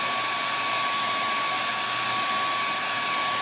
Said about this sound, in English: I am gonna hit it with my blow dryer